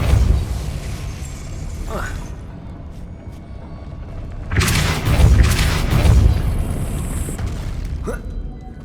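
A Depulso force spell is cast in the video game Hogwarts Legacy, letting out a loud, booming blast that swells for about two seconds over a low, rumbling game backdrop, then fades with a few softer thuds.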